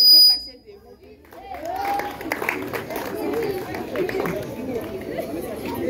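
Applause and cheering rise from an audience at a school investiture ceremony, a busy wash of clapping and crowd chatter that swells after a brief hush and carries on steadily.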